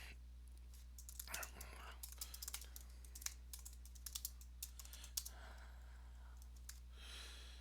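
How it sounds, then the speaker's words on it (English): Quiet typing on a computer keyboard, a quick irregular patter of soft key clicks over low background hum, with faint breathy voice sounds. "We can type a new task."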